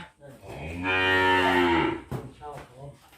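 A Brangus cow on a farm lets out one long, loud, deep moo lasting over a second, followed by quieter lowing and faint background farm noise.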